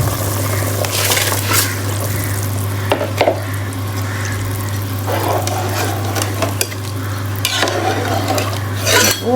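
Rice going into a pot of boiling water for a deggi channa pulao, heard as steady bubbling, stirring and sizzle-like hiss with a constant low hum underneath and occasional clinks, fairly loud and close, with no talking.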